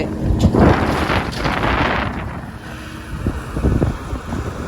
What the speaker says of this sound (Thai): ลมลมลมลม บ้านเปิดอีกแน่ครับลักษณะนี้